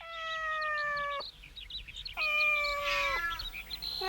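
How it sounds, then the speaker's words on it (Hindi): Several cats meow in a park, two long, drawn-out cries in sequence with others chiming in, fairly close, with faint bird chirps in the background. "यहाँ कितनी सारी बिल्लियाँ हैं"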